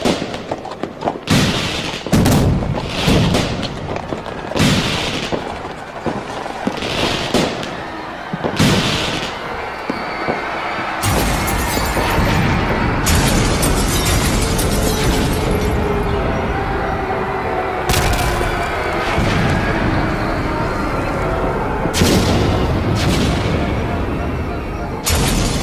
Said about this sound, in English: Those are just fireworks.